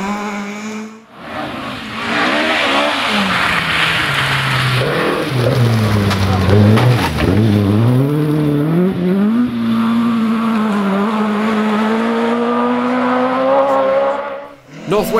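Ford Escort rally car running to FIA regulations on a historic rally stage: the engine roars loudly and close, pitch rising and dipping through gear changes and throttle lifts, sustained for the whole stretch before cutting off sharply.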